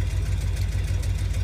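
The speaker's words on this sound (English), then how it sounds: "it's obviously running now. It's idling. I'm not giving it any gas or anything." A 1972 Jeep CJ5 with a 304 V8 idles steadily, a deep, even rumble with a regular low pulse and no revving, heard up close.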